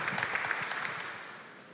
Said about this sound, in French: Je crois qu'on peut applaudir, hein.